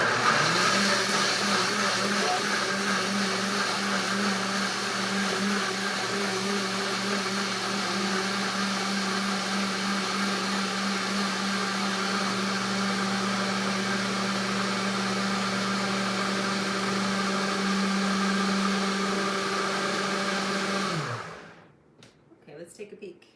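A blender whirs loudly and steadily for about twenty seconds while blending a vegan nacho cheese sauce of vegetables and broth, its motor drone holding constant before switching off abruptly, leaving brief faint sounds afterward.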